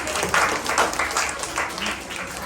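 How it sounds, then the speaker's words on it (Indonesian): A classroom-style group gives a short burst of fairly close clapping, with individual claps standing out in an uneven rhythm before it thins toward the end. "Bagi tepuk tangan."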